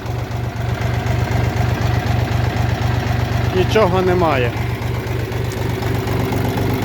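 A DF 244 mini tractor engine idles with a steady, rapid low throb, close and loud, while someone speaks briefly over it.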